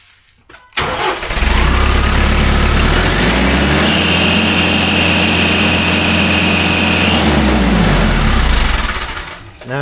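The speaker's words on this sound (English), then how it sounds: "let's just make sure that this is the belt that was squealing" A car engine fires up after a short click, then runs at a loud, steady idle, with a thin, high squeal from a worn drive belt riding over the rumble before it shuts off.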